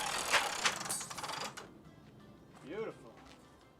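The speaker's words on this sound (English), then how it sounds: "Extend the awning normally and it should lay flat." A manual Dometic or A&E RV patio awning extends and retracts, giving quick ratcheting, clattering mechanical bursts up close for about a second and a half, then quieter with a brief voice near the end.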